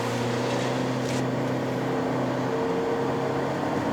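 A remapped 2021 Honda Civic FC 1.5 turbo facelift accelerating at partial throttle, heard from inside the cabin as a steady, moderately loud engine drone with a faint higher whine, and no one talking.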